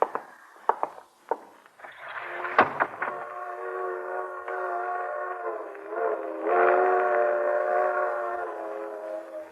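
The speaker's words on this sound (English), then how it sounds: "Freight train." A freight train sounds its whistle in a steady, multi-tone blast that holds for several seconds and swells near the end, preceded by a few short clanks and knocks, heard at moderate distance with no talk.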